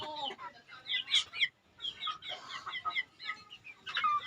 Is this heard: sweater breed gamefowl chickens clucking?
yes